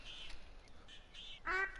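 Ducks in the hunting game The Hunter: Call of the Wild give a few quiet calls, then one louder, nearer quack near the end over a steady low ambience.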